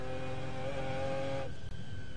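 McLaren F1 GTR race car at Le Mans, its engine holding a high strained tone that breaks off with a brief drop as it shifts gear, loud and close.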